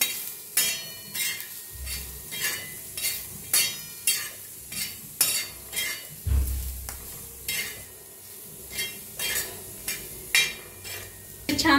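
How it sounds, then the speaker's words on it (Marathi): Green chillies roast in a pan with salt and crushed peanuts while a spoon stirs them, giving a steady run of rhythmic scraping clinks over a soft sizzle, fairly close and with no talking. "छान असं हलवून भाजूया"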